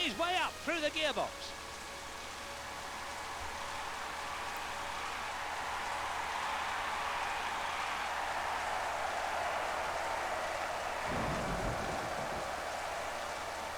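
Steady rain hiss from a wet race at Spa-Francorchamps in the 1997 Formula 1 Championship Edition video game, a broad wash of noise running through the clip with brief engine tones at the start and a short low thump near the end.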